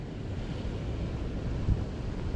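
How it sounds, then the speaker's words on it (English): Strong wind on a beach buffets the microphone with a constant low roar, with a hint of surf underneath and no voices. "Guys, it's super windy today."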